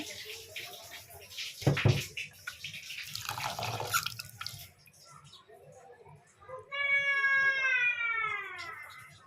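Rice is washed by hand in water for chitoi pitha, with close swishing and dripping for several seconds, followed by a voice talking.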